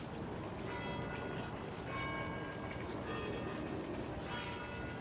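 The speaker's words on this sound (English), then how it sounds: "There go the church bells." Church bells ring at a distance over the Jacqueline Kennedy Onassis Reservoir in Central Park, New York City, faint repeated tolls layered under steady outdoor city rumble.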